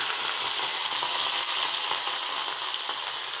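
Onions sizzling in hot oil for a Tamil-style thatta payaru (cowpea) kuzhambu, a steady broadband frying hiss with small crackles running throughout, close and fairly loud, with no voices.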